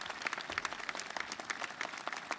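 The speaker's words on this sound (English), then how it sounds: "let us give you a round of applause" At an outdoor Veterans Day observance, an audience claps in scattered, fairly faint applause for a short stretch, heard from a distance with no talk over it.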